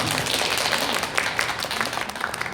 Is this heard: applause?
yes